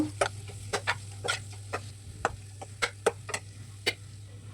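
A spoon stirs turmeric and chili powder into hagalakayi gasi, a bitter gourd curry, making about a dozen sharp, uneven scrapes and taps against the pan over a steady low background hum, with no talking.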